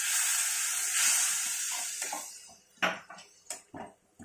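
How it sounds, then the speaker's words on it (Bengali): Katla fish being stirred in a pan over low heat: a steady close sizzle for the first couple of seconds, then a few sharp scrapes and knocks of a utensil against the pan as the sizzle fades. "জাস্ট একটু নাড়াচাড়া করবো কম আঁচ করে।"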